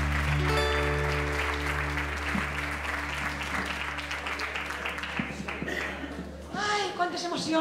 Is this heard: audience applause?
yes